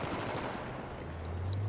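Rapid machine gun fire in Battlefield 3 during a Rush match on Operation Firestorm, a dense steady rattle of automatic bursts heard alone throughout.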